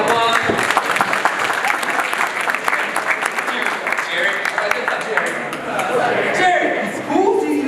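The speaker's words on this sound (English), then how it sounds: "Give a round of applause." A school audience applauding, dense clapping from a crowd in a hall that stays loud and continuous, with cheers and voices mixed into the noise.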